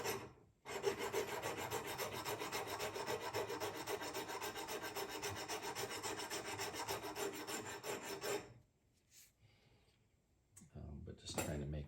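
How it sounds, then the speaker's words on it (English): Rusty hand plane part being polished, a continuous loud rasping rub for about eight seconds that stops abruptly, followed by a few faint knocks and handling sounds. "So we will polish and clean this guy up."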